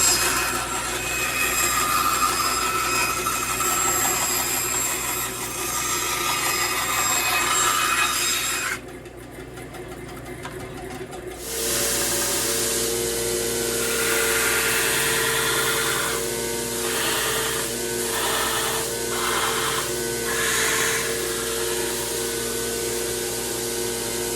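A belt grinder shapes a knife handle in a knife-making shop, giving a steady loud abrasive whir with a brief drop around the middle before resuming, rougher with pulsing contact strokes, no talking.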